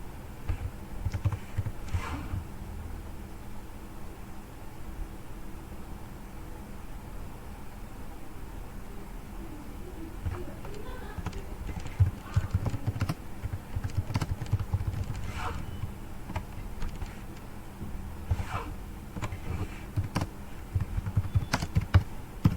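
An address being typed on a computer keyboard: soft, close key clicks in irregular bursts over a quiet hiss, growing busier and louder toward the end, with no talking.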